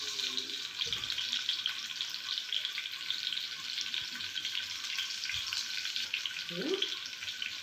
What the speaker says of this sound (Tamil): ஆயில் ஹீட்லேயே வதங்க விடுங்க.